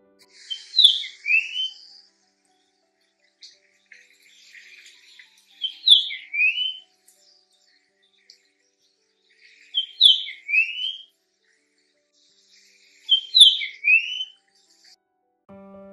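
A clear Japanese grosbeak call repeats four times at steady intervals, each a short phrase of bright, fluty whistled notes with silence between.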